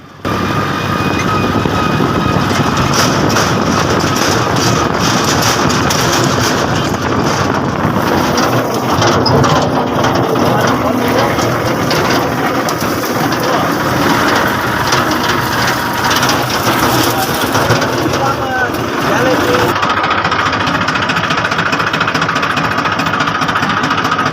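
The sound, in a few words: tractor engine running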